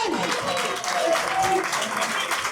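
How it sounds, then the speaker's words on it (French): Steady applause from an audience at a combat sports event fills the background while a voice speaks over it in French. "On applaudit, messieurs, dames"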